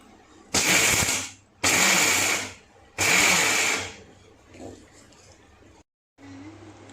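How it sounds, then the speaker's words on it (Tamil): A mixer grinder pulses in three loud bursts of about a second each while grinding peanuts for laddu, with short pauses between and a quieter hum trailing off afterward. "ஃபஸ்ட்டு கொஞ்சம் அரைச்சிடலாம்."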